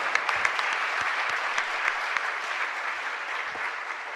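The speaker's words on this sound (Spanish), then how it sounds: "le expresamos nuestra gratitud con un fuerte aplauso" A church congregation applauds loudly and steadily, a dense wash of clapping hands that holds at an even level throughout, with no speech over it.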